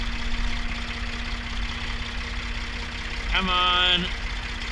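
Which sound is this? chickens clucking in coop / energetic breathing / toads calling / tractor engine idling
tractor engine idling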